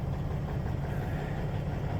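A nearby truck engine runs steadily at a stockyard, a low continuous rumble holding even for the whole stretch with no pauses or talk.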